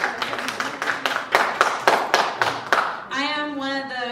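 A small audience claps at a Black History discussion program with the Arlington Police Department, about ten distinct slow claps in an uneven rhythm before a voice begins speaking.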